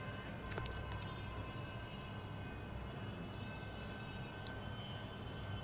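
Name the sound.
train arriving at a station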